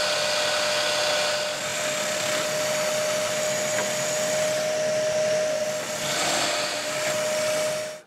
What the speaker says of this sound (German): Ich werde jetzt das durchbohren, das Brett wegnehmen und so weiter, bis alle Löcher gleichmäßig durchgebohrt sind.